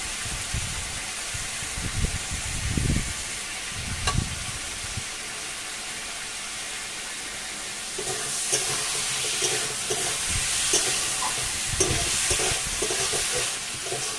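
Spices including cumin powder and garam masala fry in a pan for a vegetarian kochu root curry, a continuous bright sizzle with rhythmic scraping of a spatula, growing louder midway.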